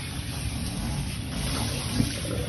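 Cold water rushes into a sink as a steady, close, broadband splashing hiss that holds at an even level for a couple of seconds.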